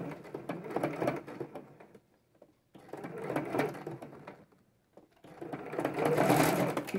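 Sewing machine stitching a small multipurpose envelope wallet, running in three loud bursts with two short pauses between, including a reverse backstitch pass, close up with no talk.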